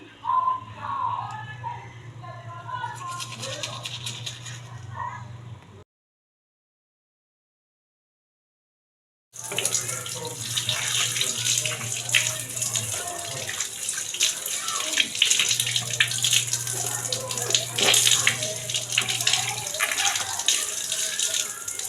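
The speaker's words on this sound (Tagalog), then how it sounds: "Tapos na tayo ng shower." Water running in a home shower, a steady broadband spray that stops for a few seconds of silence and then resumes, with a faint low hum underneath.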